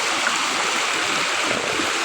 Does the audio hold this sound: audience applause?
no